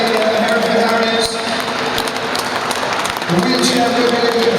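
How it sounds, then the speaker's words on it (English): Audience applauding at a wheelchair rugby league Plate Cup final in 2018, steady sustained clapping from a crowd with a voice talking over it throughout. "So keep the applause going, please, ladies and gentlemen."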